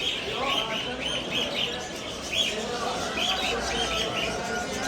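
Many parrots and canaries at an exotic animal market chirp and tweet continuously in a busy chorus, fairly close, over a murmur of background noise.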